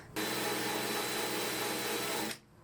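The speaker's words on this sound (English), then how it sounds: "I hope that I can fix it with the rust remover and with the wire brush here." A wire brush scrubs rust from the body of a Ford Transit van, heard as a steady, dense, hissing abrasive rasp that starts abruptly and runs evenly for about two seconds before cutting off, close and alone.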